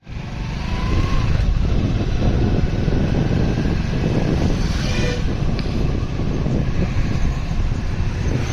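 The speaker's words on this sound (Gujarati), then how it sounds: "ટ્રેક્ટર, છોટા હાથી, ટ્રક, એવા બધા મોટા વાહન જ છે" Tractors, Chhota Hathi vans and trucks queue outside an onion market yard, their engines giving a loud, steady rumble that blends with wind buffeting the microphone.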